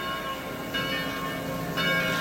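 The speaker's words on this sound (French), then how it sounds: "Tu entends ces cloches?" Church bells ringing continuously at a distance, a dense wash of overlapping tones with two slightly louder strikes.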